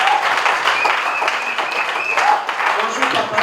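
Wedding guests applaud the bride's father, dense, steady clapping that fills the room throughout, with voices talking over it.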